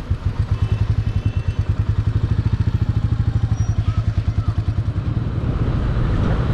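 A Royal Enfield Meteor 350 BS6 motorcycle rides past close and loud, its engine giving a steady, rapid, even thumping exhaust beat throughout. No one speaks.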